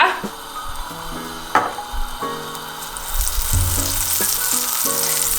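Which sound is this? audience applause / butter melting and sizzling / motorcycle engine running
butter melting and sizzling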